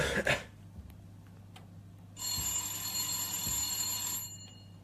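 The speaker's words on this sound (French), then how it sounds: "On va essayer de trouver une sonnerie de plutôt meilleure qualité" An old-style telephone ringtone rings steadily for about two seconds after a short burst of sound and faint clicks, then cuts off.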